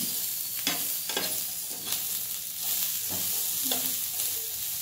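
Sweet corn kernels roasting in a pan, a soft steady sizzle with repeated scraping stirs as they are turned, close and quiet, with no talking.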